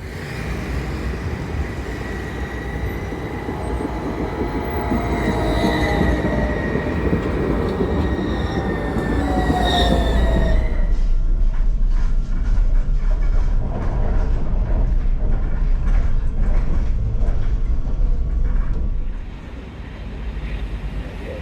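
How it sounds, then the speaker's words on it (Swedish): A tram rumbles and clatters along rails, with a rising whine from its motor, then rhythmic wheel clicks as it rolls steadily on, fairly loud and close. "då kan du alltid åka spårvagn"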